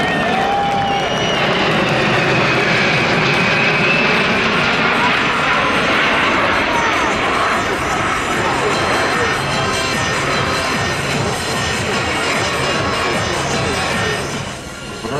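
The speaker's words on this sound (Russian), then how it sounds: "Ан-124 «Руслан». Пилотирует летчик первого класса подполковник Александр Жарников." An Antonov An-124 Ruslan heavy transport flying past at an air show in Zhukovsky, a loud sustained jet roar swelling and holding for the whole stretch, with crowd noise mixed beneath.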